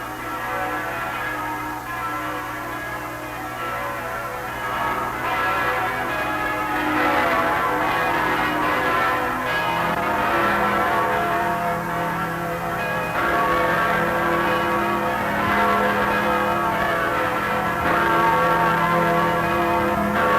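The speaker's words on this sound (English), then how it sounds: "the priests have listened to the bells of Notre Dame" Church bells of Notre Dame in Montreal ring continuously with loud, overlapping peals and a dense, sustained wash of tolling tones throughout, in a 1950s city setting.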